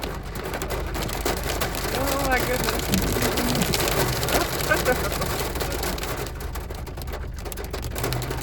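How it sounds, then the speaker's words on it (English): Hail rattles down onto a car in a farming, forested area, a dense, steady patter of hard little impacts that persists throughout, with a person briefly exclaiming partway through. "Now there's hail."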